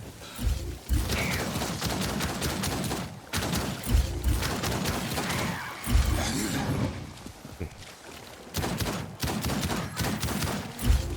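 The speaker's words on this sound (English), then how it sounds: "Oh, I'm still getting shot at." Bursts of gunfire in the video game Outcast: A New Beginning, repeated volleys and shots over a busy, continuous game soundscape.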